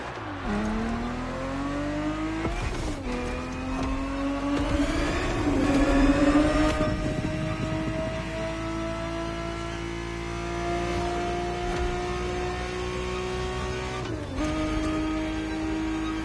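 Ferrari 365 GTB4 from the 1970s racing in The Crew Motorfest, its engine revving loud and continuous through a few gear changes, the pitch climbing, dipping and climbing again close up with no voices.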